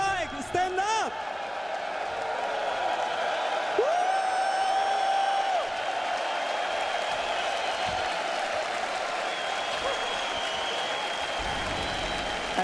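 Large arena crowd at The International Dota 2 cheering for team Heroic, a broad sustained roar of applause and whoops heard from a distance, with an announcer's voice over it.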